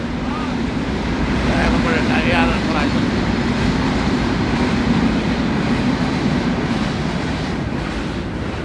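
A low, continuous rumble of a passing train fills the clip, with faint voices underneath.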